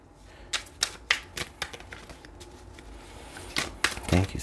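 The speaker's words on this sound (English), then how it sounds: "let's go ahead and shuffle one more time" A tarot deck is shuffled by hand in a series of crisp, close riffles and slaps, some loud and some softer, with no talking.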